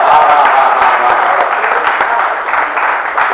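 Audience applause at a Hindi poetry recital, a dense, steady wash of many hands clapping that holds for several seconds, with voices faintly mixed in.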